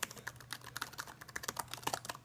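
Rapid, steady typing on the keyboard of a Lenovo ThinkPad X201, a compact 12-inch laptop. The keys clatter close and crisp with no voices.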